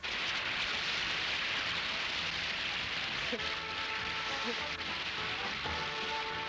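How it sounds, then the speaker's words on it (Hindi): Steady, soft rain hisses continuously, with faint voices coming in partway through. "ये तो बारिश हो गई।"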